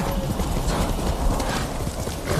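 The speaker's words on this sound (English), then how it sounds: "Ride that horsey." Horse hooves clip-clop steadily in a video game as the horse is ridden downhill over rough ground, a continuous close rhythm heard alone.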